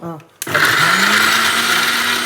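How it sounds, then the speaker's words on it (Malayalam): An electric mixer grinder starts up after a brief voice, then runs with a loud, steady high-pitched whirring whine, close by. "ഈ കാണുന്ന ഇത് നേരെ മിക്സി എടുക്കുന്നു"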